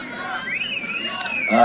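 Crowd noise at a Trump rally in New York, a steady outdoor hubbub of many voices with scattered shouts and a brief whistle-like tone, swelling slightly near the end.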